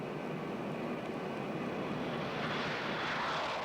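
Engine drone of a British aircraft shadowing a Russian warship at sea, a steady broadband roar that holds constant and swells slightly toward the end, with no voices.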